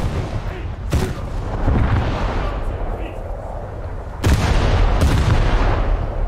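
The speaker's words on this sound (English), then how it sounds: "And I have to fire back because they are shooting at me." Heavy naval gun blasts boom back and forth during a warship battle in a video game, two big broadband shots standing out over a constant low rumble of engine and sea.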